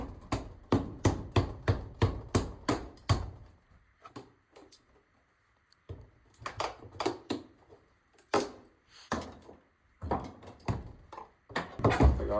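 Tools work on an old house during a window installation, prying out nails with a hammer or crowbar in bursts of sharp metallic knocks and taps, close and fairly loud, with pauses between runs of strikes.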